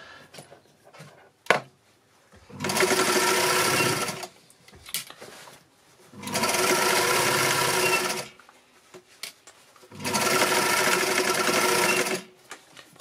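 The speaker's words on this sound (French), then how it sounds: "Je vais coudre largeur pied presseur." A sewing machine stitches a thick cushion seam straight with a brief reverse, running in three steady bursts of about two seconds each, separated by quiet pauses with small handling clicks.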